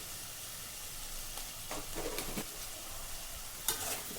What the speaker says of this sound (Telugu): ఒకసారి అంతా బాగా కలిపి ఇందులో కొద్దిగా ఉప్పేసి మూత పెట్టేసి ఒక ఫైవ్ మినిట్స్ మగ్గించుకోవాలి